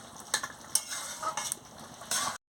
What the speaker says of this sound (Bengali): দিয়ে ভালো করে নাড়িয়ে নিচ্ছি, দেখতে থাকুন আমার রান্নাটা কেমন হচ্ছে